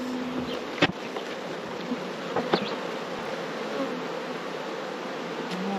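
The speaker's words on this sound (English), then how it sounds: "You can see a lot of bees are hanging outside the hive today, trying to cool off." Honey bees buzz outside their hive on a hot day, a steady dense hum with a few individual bees droning close past now and then.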